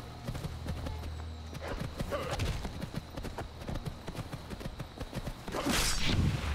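A horse in Skyrim clip-clops along at a steady gait, its hoofbeats rhythmic and fairly close, with whooshing movement sounds and a louder burst near the end.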